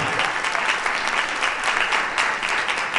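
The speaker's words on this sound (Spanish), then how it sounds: "Un fuerte aplauso para Alejandra Mora." A crowd claps steadily in loud, sustained applause that fills the whole moment without pause.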